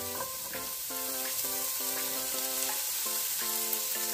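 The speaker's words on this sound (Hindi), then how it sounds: "आमचो बरो सोते करपाचो" Half an onion sautéing in a pan with ginger and garlic for a Goan crab curry, a constant hiss of frying under a recurring tonal background hum.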